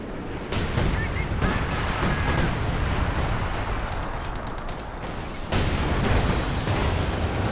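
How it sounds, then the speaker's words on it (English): An artillery barrage in Company of Heroes 2 rumbles as a dense, continuous wash of booms and gunfire, loud and sustained throughout with a brief dip near the end. "Drops down some artillery."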